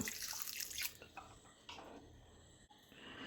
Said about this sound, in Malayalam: അതിനുശേഷം കുറച്ച് പച്ചവെള്ളം അതിൻ്റെ മുകളിലേക്ക് ഒഴിച്ചു കൊടുക്കാം.